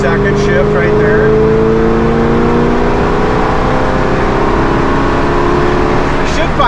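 A 1971 Camaro, likely with a Turbo 400 automatic, drives and shifts up through its gears, with a loud, steady engine drone rising in pitch and then stepping down at each upshift as it pulls close by.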